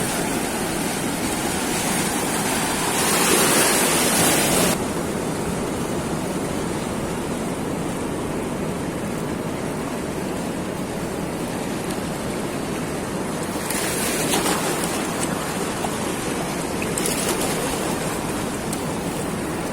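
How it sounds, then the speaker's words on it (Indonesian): Ocean surf roars continuously on a beach at Pantai Pacar in Tulungagung, East Java, loud broadband wash with a couple of stronger breaking waves surging in, no talk. "Suara deru ombak"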